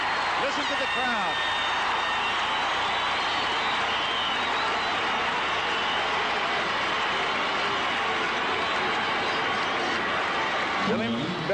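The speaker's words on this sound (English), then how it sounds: "Listen to the crowd." Roaring crowd noise fills a baseball stadium during a 1981 ALCS playoff game, a dense sustained cheer holding steady across the stretch while a voice speaks intermittently over it.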